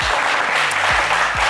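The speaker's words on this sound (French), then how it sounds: "Sarah et Vayron, on va vous applaudir quand même très fort" A television game-show studio audience applauds the departing contestants, a dense burst of clapping at moderate loudness, short and steady from start to finish.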